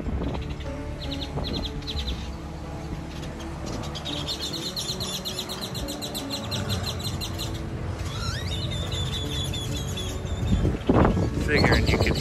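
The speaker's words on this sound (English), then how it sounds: "these dang birds are all flipping out in this tree" Lots of birds in a tree chirping and calling at once, busy overlapping tweets and chatter from close by, over a low rumbling background.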